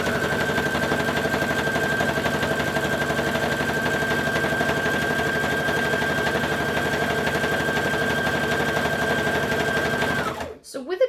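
An overlocker sewing machine stitches curved stretch fabric for a hoodie, a fast, steady mechanical whir and rattle running nearly nonstop before stopping abruptly near the end.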